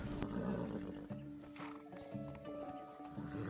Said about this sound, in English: Why are all the horses acting up?